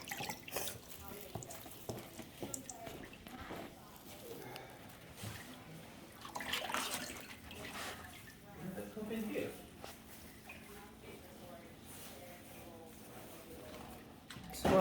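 Running tap water splashes in a kitchen sink as fruits and vegetables such as cilantro, parsley and bananas are washed, a steady close wash with intermittent surges and a voice talking over it.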